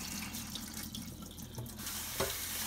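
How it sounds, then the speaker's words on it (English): Red beans are rinsed under running tap water in a colander, a steady close hiss and splash of flowing water with a brief louder knock near the end. "Obviously through a colander. We're gonna make sure we wash these well."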